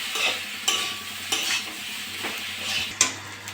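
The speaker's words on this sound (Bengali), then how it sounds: "এটা নেড়ে চেড়ে নেবো।" A spoon scrapes through potato and semolina in a frying pan, a few distinct stirring strokes over a steady sizzle, close and fairly loud, with no voices.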